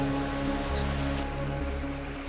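Heavy rain pours steadily during the Rath Yatra festival in Puri, a dense, loud, continuous hiss of falling water with a low rumble underneath and no talking.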